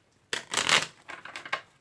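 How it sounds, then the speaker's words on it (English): A deck of stiff, brand-new tarot cards is riffled, giving a sudden crisp burst of flapping and rasping followed by a few softer shuffles, close up and alone. "This is the first time I'm shuffling them, so they're a little stiff."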